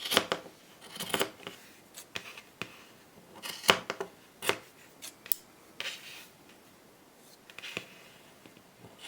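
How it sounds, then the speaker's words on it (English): Scissors trim the ends of crochet yarn braids on a gnome towel topper, making quiet close snips that come one at a time in an irregular rhythm with soft rustling between cuts. "Trim the bottom of your braids"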